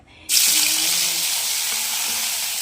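Garlic, onion and tomato dropped into hot oil in a wok-style pan for adobong kangkong, bursting into a sudden loud, steady sizzle that holds close and continuous.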